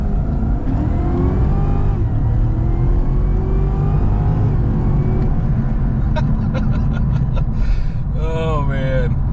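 A supercharged car accelerates at full throttle, its engine note climbing steadily with a thin blower whine riding over the roar; a voice breaks in near the end.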